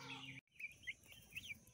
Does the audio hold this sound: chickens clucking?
yes